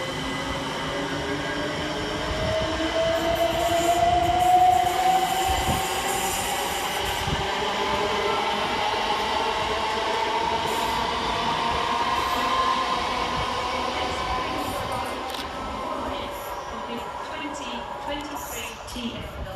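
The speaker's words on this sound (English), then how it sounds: "we see 357207 and 357028 depart, with the 2019 C2C service from Grays to London Liverpool Street" Two Class 357 c2c electric units pull out of Stratford station with a continuous rumble and a rising whine as they gather speed, with faint wheel and rail noise throughout and a person talking over the sound.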